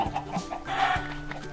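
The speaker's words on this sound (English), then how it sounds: "I heard the chicken." A chicken in the Minecraft video game gives a few short clucks at close range over a game background, with no talking.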